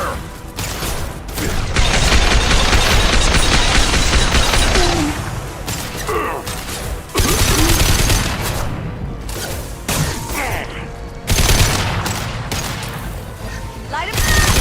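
Sustained video game gunfire in long dense bursts, loud and close, with brief gaps and explosive booms, while voices shout over the shooting.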